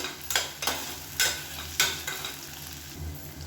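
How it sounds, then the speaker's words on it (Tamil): Onions with ginger garlic paste being sautéed in a pan for chicken curry, a soft steady sizzle broken by several sharp scraping stirs of a spoon against the pan, close and fairly quiet. "இப்போ இதையும் சேர்த்து நல்லா வதக்கி விட்டுக்கலாம்."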